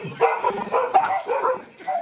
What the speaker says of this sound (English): And Wes, Chester never barks when you're here.